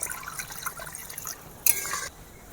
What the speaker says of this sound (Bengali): অল্প জল দিয়ে দিয়েছি